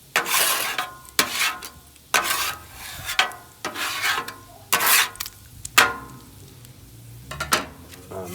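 A spatula scrapes excess bacon grease across a Blackstone 28-inch griddle in a string of sharp, rasping strokes about one per second, close and clear with no voices.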